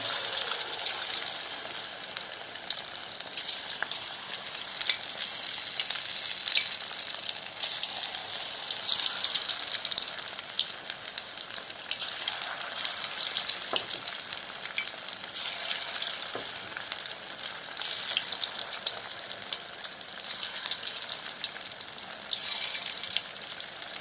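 Paneer 65 pieces deep-frying in oil, a continuous bubbling sizzle with crackles and occasional stir clatter, steady and fairly close throughout, with no one speaking.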